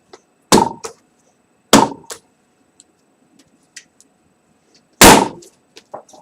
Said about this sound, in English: That was a thud.